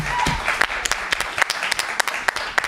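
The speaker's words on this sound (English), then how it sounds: "Can we give PhillyCAM a round of applause?" An audience claps in a round of applause at a community media event, with individual sharp claps standing out over a dense patter that carries through the whole short stretch.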